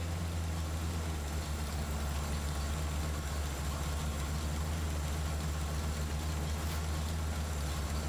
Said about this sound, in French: Donc voilà le moteur tournant.